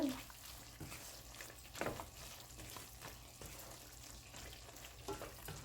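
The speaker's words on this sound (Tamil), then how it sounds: "அந்த பவுடரை போட்டு கொஞ்சம் மிக்ஸ் பண்ணுவோம்" Ground fennel, clove, cinnamon and cumin are stirred into a pan for chicken kurma, making a soft, steady sizzle with faint scraping strokes of the spoon.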